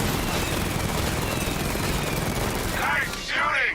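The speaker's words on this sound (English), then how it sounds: "Nice shooting!" Rapid gunfire in the Batman: Arkham Knight video game forms a dense, loud, continuous barrage of shots with a mechanical drone beneath, and voices briefly break through near the end.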